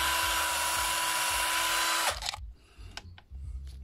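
Power tool spinning at high speed to polish the injector seat and copper ring seat of a Mercedes CDI engine, a steady loud whine for two seconds that stops abruptly, followed by brief clicks and handling noises.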